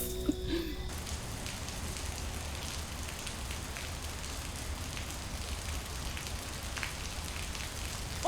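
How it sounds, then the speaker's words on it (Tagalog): Steady rainfall pattering on surfaces outdoors, a continuous soft wash of drops at moderate distance, fairly quiet and even throughout with no talking. "Bakit nagpapakabasa ka sa ulan?"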